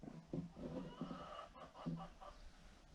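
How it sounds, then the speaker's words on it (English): Chickens cluck in short bursts, several soft calls close by with brief pauses between them. "My chickens hear me talking, so they're talking back."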